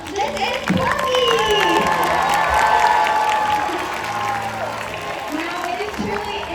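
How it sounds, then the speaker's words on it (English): An audience at a Sea World orca show breaks into loud applause and cheering, sustained clapping with shouts from the stands while an announcer speaks over it through the PA. "let's give a big round of applause for the legend herself"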